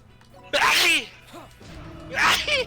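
A loud cartoonish sneeze from a character in the video game Disgaea 5, two bursts with a quieter effect between them, heard alone without talk.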